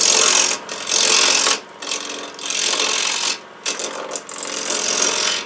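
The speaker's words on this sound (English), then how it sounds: "come in with a small bowl gouge, and we can start" Small bowl gouge cutting wood on a lathe, giving bursts of bright, rough scraping and hissing that come in several passes with short pauses between them. The sound is loud and close and plays alone.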